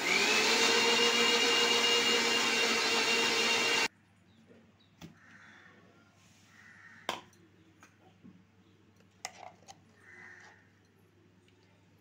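A mixer grinder whirs loudly and steadily for about four seconds while grinding coconut powder and food colour into a fine paste, then stops abruptly, leaving a quiet room with a few faint clicks and knocks.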